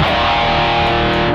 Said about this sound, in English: It's definitely a pedal that has a lot of high gain